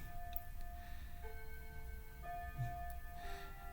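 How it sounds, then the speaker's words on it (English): A clock ticks softly in the background of a quiet indoor room, a faint, even pulse under a low hum. "You probably can hear my clock in the background."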